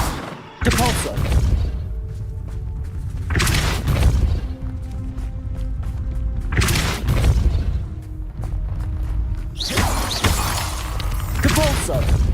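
Spell impacts from a Hogwarts Legacy game, heavy booming blasts with shattering crashes, fire in several bursts about every three seconds over a low ambient bed, and a voice speaks between them.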